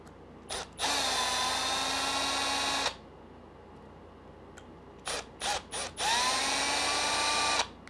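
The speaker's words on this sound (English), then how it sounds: "A lot easier for a drill." Cordless power drill driving screws into the rear motor mount of an ARRMA Kraton 6S BLX RC truck, heard as two long whirring runs with short blips of trigger taps between them, close and loud.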